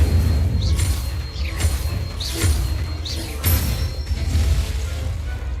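Spells, including Incendio, are cast in quick succession in the Hogwarts Legacy video game, producing a series of about four booming, crackling bursts over a steady low rumble.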